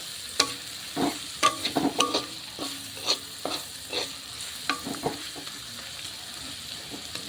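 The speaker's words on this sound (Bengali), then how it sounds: "পেঁয়াজটাকে একবার নেড়ে দেবো যাতে তেলের সাথে পুরোভাবে এটা মানে পেঁয়াজগুলোর সবকটার তেলটা লেগে যায়" Onions are stirred in hot oil in a pan: a soft steady sizzle broken by irregular scraping clacks of a spoon against the pan, close by, thinning out toward the end.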